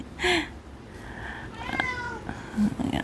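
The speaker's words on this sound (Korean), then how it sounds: "우리 고양이가 왜 이렇게 울지?" A cat meows several times indoors, short plaintive cries spaced across a few seconds with faint background noise, near and fairly clear.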